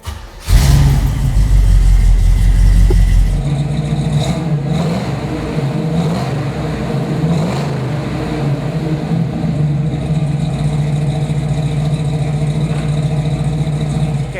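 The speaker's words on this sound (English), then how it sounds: "How about I fire it up for you so you can hear what it sounds like?" A 1969 Chevrolet Camaro RS SS 396 with its big-block V8 fires up loudly, then settles into a steady, rumbling idle close by, with no talking over it.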